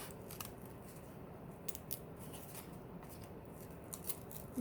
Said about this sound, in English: So here I am with my scissors. I'm just going to cut out a heart shape here.